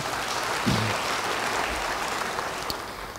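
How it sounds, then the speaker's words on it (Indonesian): Church congregation applauding during a sermon, a continuous wash of many hands clapping that holds steady and then tapers slightly near the end. "Yang mau beri tepuk tangan bagi dia."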